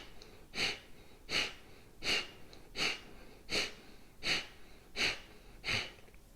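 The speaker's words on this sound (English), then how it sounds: "So breathe in. And then forced exhale out." Forced exhales during a yoga breathing exercise: eight sharp, breathy bursts of air at a steady rhythm about one per second, close and clear with no talking.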